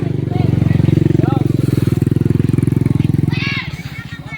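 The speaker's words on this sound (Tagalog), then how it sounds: "Ay, may motor." A motorcycle engine runs steadily nearby in a cemetery, a loud pulsing drone that fades as it passes around the three-and-a-half-second mark, with people talking over it.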